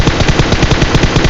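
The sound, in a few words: gunfire in PUBG video game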